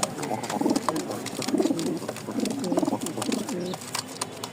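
Lahori pigeons coo close by in a repeating series of soft, throaty, rolling calls, with a few faint background noises.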